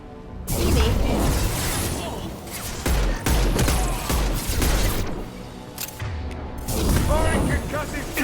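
Combat gunfire in the Mass Effect 2 video game, repeated heavy shots and booms among clattering effects, with voices talking over the fighting.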